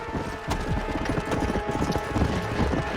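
Horse hooves clip-clop in a steady quick rhythm in the Red Dead Redemption video game, loud and close, dense with low thuds throughout.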